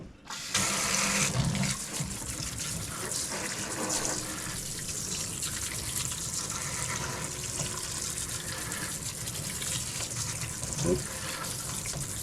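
Beef, strained from the pot, is rinsed under a running kitchen tap, a steady close splashing stream of water that holds for about twelve seconds with small clatters along the way.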